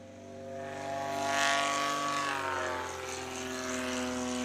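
A STOL aircraft at the National STOL Championships in Sulphur Springs, Texas, roars past on takeoff, its propeller engine swelling to a loud, droning peak and then easing as it flies by.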